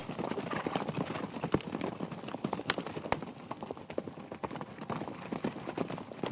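Horses ridden by military academy cadets clip-clop in a steady stream of hoofbeats on hard ground, several animals moving together at moderate distance.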